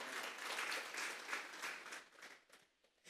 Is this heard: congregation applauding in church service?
yes